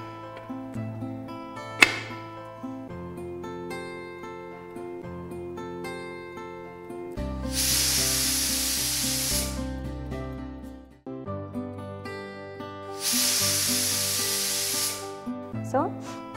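A pressure cooker used to cook chicken releases steam in two loud, sustained hissing bursts of a few seconds each over continuous background music.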